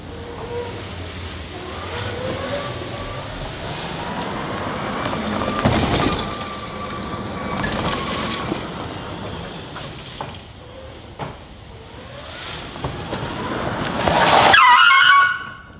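A modified electric golf cart drives around a neighborhood, giving a continuous whirring motor and rolling tire noise with rising and falling whines, swelling louder near the end, with no talk.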